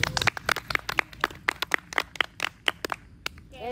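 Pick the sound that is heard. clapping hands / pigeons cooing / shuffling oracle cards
clapping hands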